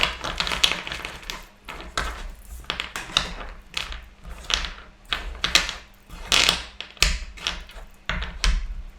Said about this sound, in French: je vais rassembler les cartes